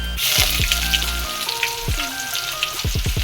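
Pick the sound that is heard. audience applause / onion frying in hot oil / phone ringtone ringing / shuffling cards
onion frying in hot oil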